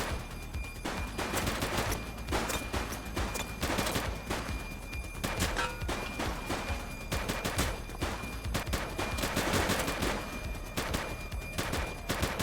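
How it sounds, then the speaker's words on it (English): Dense gunfire in a police shootout from the video game The Precinct: rapid bursts of automatic and single shots, loud and close, continuing without pause. "Shots fired!"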